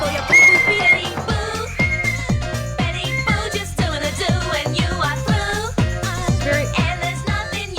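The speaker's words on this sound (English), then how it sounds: "I'll get my whistle." A whistle sounds in a steady run of short, rhythmic blasts, loud and close, continuing throughout with no talking.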